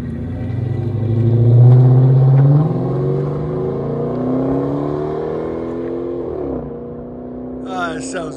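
A Dodge Magnum RT with a 5.7-liter HEMI V8 and Flowmaster Super 10 mid mufflers, rear delete and 4-inch tips revs up loud and close, the exhaust note rising and then settling back to a steady rumbling idle.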